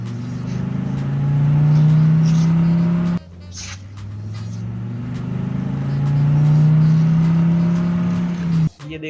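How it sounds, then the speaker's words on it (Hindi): Toy remote-control police car driving, its small motor giving a steady loud whirring hum that rises in pitch over a few seconds, breaks off briefly, then builds and climbs again before stopping. "ये तो रिमोट वाली कार है, पुलिस वाली आरसी कार है"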